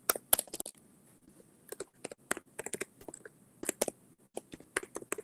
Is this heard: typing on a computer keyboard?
yes